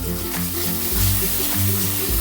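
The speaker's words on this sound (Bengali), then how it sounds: "মশলার জলটা দেওয়ার পরেও আমি ভালো করে কষিয়ে নেব" A short burst of spice paste being sautéed for katla fish after a splash of spice water, with a dense, loud sizzle over a low steady hum.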